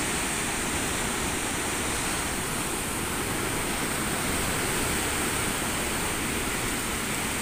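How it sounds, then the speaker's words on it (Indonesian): Strong rushing water pours steadily over the Ranau lake dam, a dense, continuous roar that holds unchanged from start to finish with no voices. "Hidup airnya kenceng."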